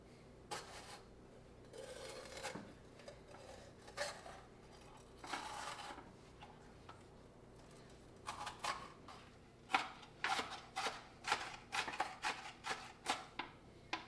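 A knife chops bell pepper and onion on a cutting board in a home kitchen, rough-chopping vegetables for meal prep; scattered cuts give way to a quick run of close, crisp, rhythmic knocks.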